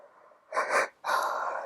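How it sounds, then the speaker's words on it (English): A person yawns: two drawn-out, breathy exhalations close to the microphone, separated by a brief pause, with no speech. "I yawn when I channel. That's why I'm yawning."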